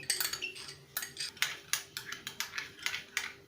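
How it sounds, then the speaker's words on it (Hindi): A spoon clinking against a bowl while mixing ketchup into mayonnaise for a paneer roll, a steady series of light, sharp taps and scrapes about three per second, close and quiet. "केचप को मैं मेयोनीज के अंदर में मिक्स कर रही हूँ।"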